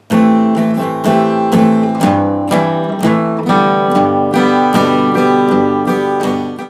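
Acoustic guitar strummed rhythmically in a full, steady pattern, chords changing as a melodic line is played, loud and close with no voices.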